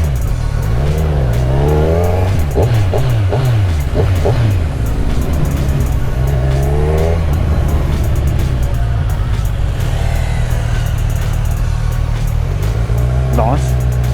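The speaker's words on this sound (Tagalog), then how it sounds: "Kaya pala grabe humarurot si Master Bite dito eh." A sport motorcycle from a bike test-ride event, such as a 450NK, CB1000R, 790 Duke or Z1000R, screams past at speed with loud rising and falling engine pitch, and voices can be heard around it.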